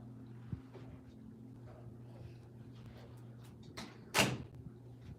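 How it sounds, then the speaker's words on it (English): A door is shut indoors with one sharp close, heard near and fairly loud against a low steady room hum. "I gotta close the door"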